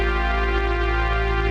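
A sustained, bright brass-like synth chord from Phase Plant held steady, dense and heavily compressed with OTT, with a thick, loud, even tone throughout.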